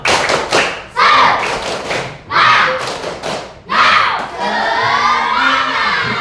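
Audience performing the tepuk semangat clapping chant, with loud rhythmic group claps and thumps in short bursts, shouted chant voices and children cheering, ending in sustained crowd noise.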